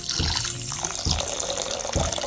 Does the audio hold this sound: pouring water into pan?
yes